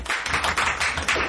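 An audience at a Doctor Who fan gathering breaks into clapping, a loud, close burst of many hands with uneven rhythmic peaks that stops after about a second.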